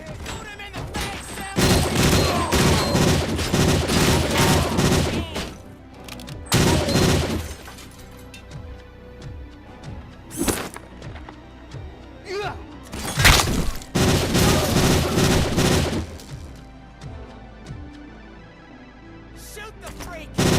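Gunfire in Robocop Rogue City, dense bursts of rapid shots alternating with single heavy blasts and thuds, loud and close with voices shouting at times.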